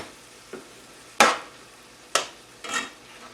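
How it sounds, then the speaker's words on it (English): Butter melting among green beans in a pan, with soft sizzling and a few sharp clatters of stirring that each trail off, close and fairly loud. "So I'm going to put just a little bit more butter and melt it down in these green beans."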